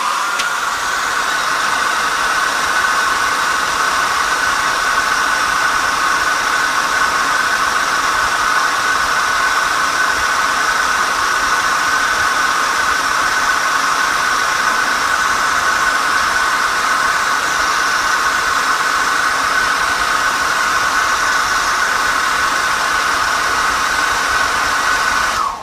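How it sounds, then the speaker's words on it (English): A loud, steady hair dryer whooshes without pause, drying a watercolor painting, a constant airy roar with a humming motor tone. "So, more hair dryer."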